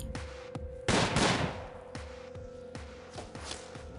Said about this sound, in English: Shooting shotgun.